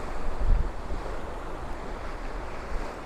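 Ocean waves breaking against St Monans pier, a steady broadband wash of surf with a low thump near the start and wind rumbling across the microphone, no voices.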